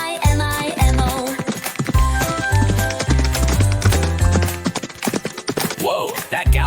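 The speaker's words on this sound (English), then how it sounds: "that galloping sound must be HeroMo" A horse galloping in a children's nursery rhyme about racing around a muddy course, its steady clip-clop rhythm running under loud, busy music throughout.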